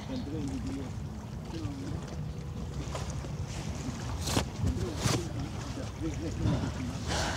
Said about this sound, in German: wenn jetzt der Wind noch ein bisschen nachlässt